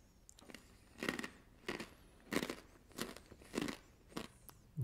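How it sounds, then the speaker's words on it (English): Small, crunchy, star-shaped cheese-seasoned snacks are bitten and chewed close up, with about seven crisp crunching bursts coming in an even rhythm over quiet background. "These are nice and crunchy"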